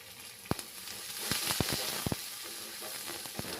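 Onion, green chili and curry leaves frying in hot oil, a steady close sizzle with a scatter of sharp pops and crackles.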